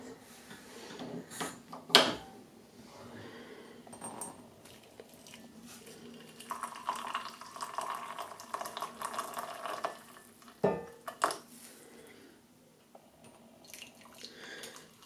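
Stovetop espresso maker on a burner, sputtering and gurgling as air blasts through the spout at the end of brewing, an irregular hiss with bursts and knocks close by, with no talk.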